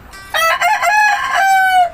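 A single rooster crow from a breeding cock, loud and close, with a long drawn-out final note.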